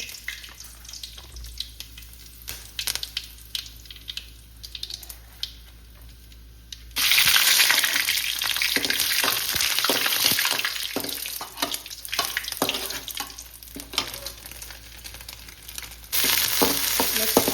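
Mustard seeds and curry leaves fry in hot oil, a loud steady sizzle bursting in after a quieter stretch of faint clatter, with crackling pops throughout and a renewed surge near the end.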